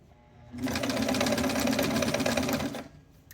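A domestic sewing machine runs a seam across a folded-under kosode collar edge: one steady, close mechanical whir lasting about two seconds, starting and stopping cleanly with no voices.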